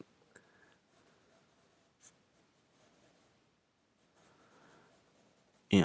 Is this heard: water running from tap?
no